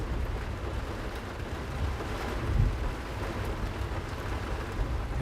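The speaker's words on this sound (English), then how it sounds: "As you can see, pretty heavy rain coming down here." Heavy rain pouring down during a thunderstorm in Iowa, a dense, continuous hiss with no letup and a brief low rumble in the middle, heard alone without talk.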